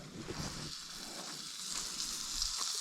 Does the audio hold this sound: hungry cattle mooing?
no